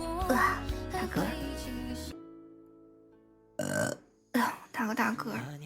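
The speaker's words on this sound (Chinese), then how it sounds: "打个大嗝" A Vtuber lets out a big, drawn-out burp amid excited chatter, with voices talking loudly before and after the deep, rumbling belch.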